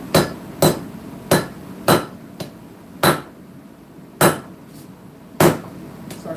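Blacksmith's hammer striking a knife tang on an anvil while drawing out a rat-tail tang, with sharp ringing blows at a steady, slightly uneven pace of roughly one to two per second, close and loud with no talking.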